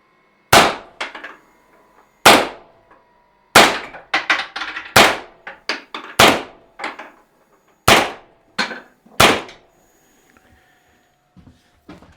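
A Pistelle x68 pistol fires about ten sharp, loud cracks at uneven intervals, several in a quick cluster midway, with short quiet gaps between shots and no talking.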